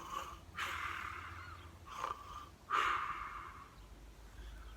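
A storyteller's voice imitates snoring, giving three drawn-out, breathy snores at an even pace, quiet and close with no other talk.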